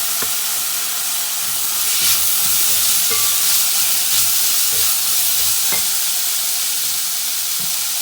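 Chicken fries in a pan with soy sauce while being stirred, giving a steady loud sizzle and hiss with scattered scraping taps from the utensil, close and continuous.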